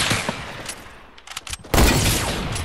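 A heavy sniper rifle fires in Fortnite Battle Royale, one sharp loud blast landing near the end after quieter gunfire and game noise, with no talk over it.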